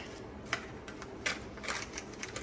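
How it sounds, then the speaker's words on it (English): Gritty scraping and clicking inside a part of a Bally Twilight Zone pinball machine during restoration, a few short, sharp rasping bursts over a quiet background. "You can hear the grit in it."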